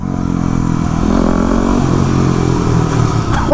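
A Yamaha WR250R supermoto motorcycle fitted with a Power Commander V runs with a loud, steady engine drone close by, holding a nearly even level throughout, with no talk.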